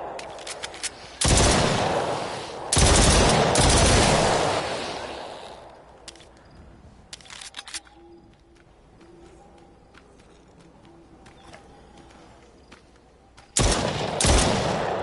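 Gunfire from a PS4 shooter game played on a live stream, loud bursts of rapid shots at the start and again near the end, with quieter sporadic shots and ambient game sound between them.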